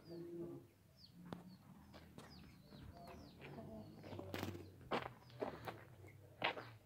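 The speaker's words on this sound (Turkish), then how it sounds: "Bunlar cins güvercin arkadaşlar." Purebred tumbler pigeons coo softly in a farmyard, with bright bird chirps and twitters, shuffling footsteps and occasional clucks mixed in at close range.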